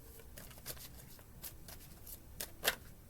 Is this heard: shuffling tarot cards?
yes